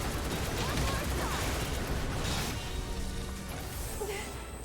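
Pulse cannon gunfire erupts in Final Fantasy VII Remake, a dense, loud barrage of rapid blasts and impacts that fades slightly toward the end, with voices speaking over the combat.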